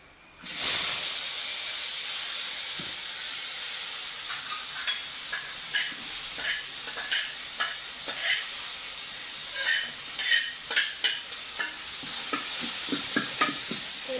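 Tomato, small onions, garlic, green chili and curry leaves hit a hot pan with a sudden loud hiss, then sizzle steadily as a spoon stirs and scrapes in a quickening series of clicks.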